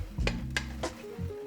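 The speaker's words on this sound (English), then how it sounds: "We have sauteed the eggs and cooked those to ready to go." Eggs sautéed in a pan for a Korean short ribs meal, heard as a few short scraping and clinking clatters of utensil against cookware, close and fairly quiet, with no talking.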